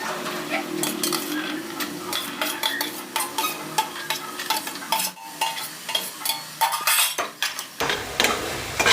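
A spoon stirs peas and spices frying in a pan for a gucchi (morel mushroom) curry, giving a steady sizzle with repeated scraping and metal clinks close by and no voices.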